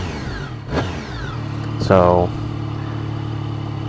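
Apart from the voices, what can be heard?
motorcycle stock exhaust revving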